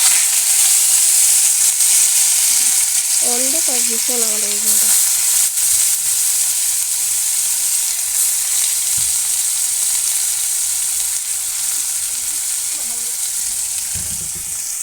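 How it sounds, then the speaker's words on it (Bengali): Potatoes frying in a pan with cumin and a dried chilli, loud continuous sizzling and stirring close up, with brief speech and faint tonal sounds early on. "এখানে শাক ভাজার জন্য দিয়ে দিয়েছি জিরে আর হচ্ছে শুকনো লঙ্কা একটা এবার দিয়ে দিচ্ছি আলু"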